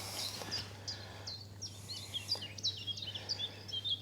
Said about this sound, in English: You hear those birds singing?